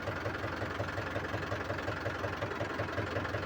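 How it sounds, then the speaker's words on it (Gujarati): A tractor engine idles steadily close by, with a low rhythmic chugging knock repeating evenly throughout and no voices. "આજે ટ્રેક્ટર લઈને જાતે આવ્યો છું લેઝર કાઢવા"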